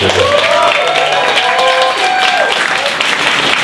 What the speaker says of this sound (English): Give a round of applause for Buff Monster.